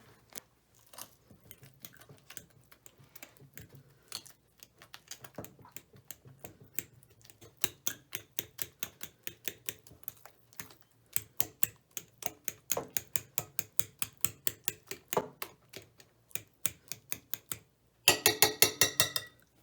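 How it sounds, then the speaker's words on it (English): Ripe bananas being mashed with a plain fork, close-up soft squishing taps in a quickening rhythmic series, with a sharper burst of scraping clicks at the end. "Now I'm going to take just a plain old fork and mash it."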